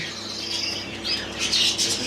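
Pet birds squawk and chirp nearby, a series of shrill, scratchy calls that grow busier and louder toward the end over a low steady background hum.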